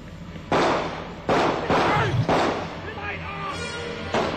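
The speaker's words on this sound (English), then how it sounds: "These gunshots were part of what turned out to be an elaborate hoax." Several sharp gunshots, about four or five, ring out at uneven intervals, each a loud sudden crack with a decaying tail, over a steady background with faint voices.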